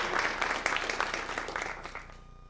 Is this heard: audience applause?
yes